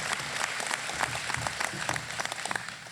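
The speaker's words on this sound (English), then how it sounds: "Can I get a round of applause for that internal team?" Applause from an audience at a ribbon-cutting ceremony, a brisk burst of many hands clapping close and fairly loud for a few seconds, thinning slightly toward the end.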